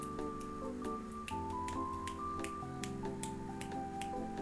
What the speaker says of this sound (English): I can snap with my one finger though.